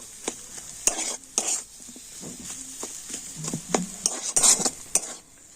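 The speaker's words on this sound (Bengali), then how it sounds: "সব কিছু দিয়ে আবার কিন্তু খুব ভালো করে মিশিয়ে নেব" Cauliflower chop filling with spices and chopped coriander leaves is mixed in a pan, with repeated sharp scrapes and knocks of a spoon against the metal and a faint sizzle underneath, close by.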